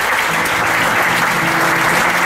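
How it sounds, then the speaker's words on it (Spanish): A church congregation applauds throughout, a thick, continuous sheet of clapping from a large crowd that stays loud and even with no pauses or speech. "Aplaude al Padre."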